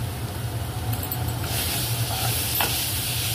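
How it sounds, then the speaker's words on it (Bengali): Cumin-coriander paste and ginger paste dropped into a hot pan for a fish curry with potato and cauliflower, giving a steady sizzle that swells into a brighter hiss partway through, heard close with a low background hum and no talk. "এবার দিচ্ছি জিরে ধনে বাটা একসঙ্গে, তারপর দিচ্ছি আদা বাটা।"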